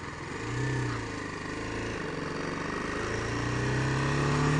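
A 2018 BMW G310R motorcycle engine on a test ride, the rider in second gear and feathering the clutch through a U-turn: a steady close engine drone with gently rising and falling revs under wind noise.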